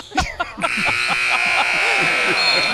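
At a Spurs versus Thunder summer league basketball game, the game-end buzzer sounds as one long, steady, sustained tone under an excited commentator's voice.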